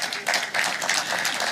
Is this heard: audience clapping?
yes